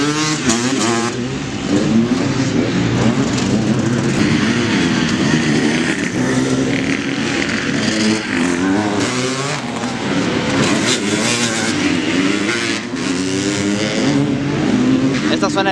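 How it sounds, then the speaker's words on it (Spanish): Several enduro motorcycles rev and race around a motocross track at night in Chihuahua, their engine noise dense and continuous, rising and falling as they pass, with voices talking over the roar. "estos de enduro tienen ese sonido característico de una moto de enduro"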